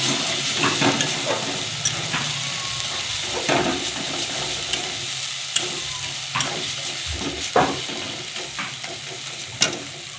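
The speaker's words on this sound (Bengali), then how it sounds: "মশলার বাটিটা ধুয়ে আমি একটু জল দিচ্ছি। দিয়ে মশলাটাকে ভালো করে কষিয়ে নেব।" Ginger-garlic and tomato masala cooking down in a pan with a splash of water, a close, steady sizzling hiss broken by repeated sharp spatula clicks and scrapes against the pan.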